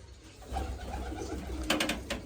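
Pigeons coo in a loft with soft, low, repeated throaty calls, close by over a quiet background.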